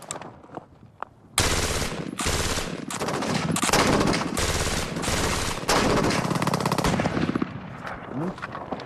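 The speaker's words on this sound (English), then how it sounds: "let's unleash the IAR in full auto" An IAR automatic rifle fires long full-auto bursts of rapid, loud gunshots with short gaps between them, preceded by a few quieter clicks and handling noises.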